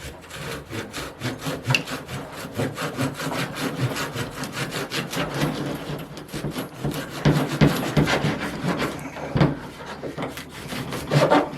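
Hand saw cutting through the trunk of a nursery-grown bald cypress, a rapid rhythmic rasp of back-and-forth strokes close up, steady throughout with no talking.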